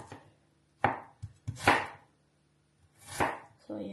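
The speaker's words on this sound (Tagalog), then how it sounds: "Slicing ko lang yan sa plato" A knife slices food on a plate in a few separate cutting strokes, each a short crisp rasp with a soft tap where it meets the plate, spaced by quiet pauses. No voices are heard.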